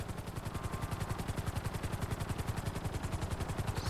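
A helicopter in GTA V flies close by. Its rotor blades thump in a fast, even rhythm over a steady turbine whine.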